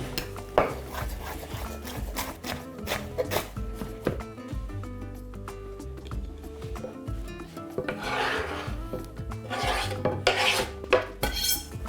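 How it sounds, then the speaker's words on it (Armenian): A large bunch of fresh parsley is chopped finely with a knife on a board, giving quick, irregular rasping chops and scrapes up close, with occasional louder knocks. "Սա էլ ենք մանր կտրատում։"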